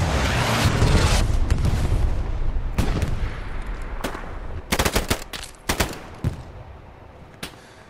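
Video game gunfire in a team shooter match, starting with a loud sustained roar of heavy fire, then sharp bursts and scattered single shots, close and punchy, with no talk.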